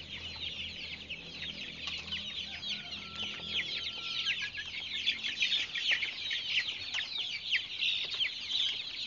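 One-month-old KUB chickens cluck and chirp continuously in a pen, a dense, lively chorus of many birds close by with no talk.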